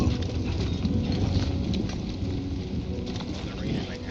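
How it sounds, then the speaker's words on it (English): Acid rain pours down in the video game Death Stranding 2, a dense, steady hiss of heavy rainfall with scattered patters and low rumble throughout, loud and continuous. "Oh, the rain is like acid. It's like acid rain."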